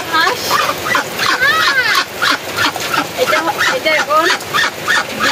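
Ducks and ducklings quack and honk in rapid, repeated bursts close by as they are herded out of the rain, with a person's voice mixed in among the calls.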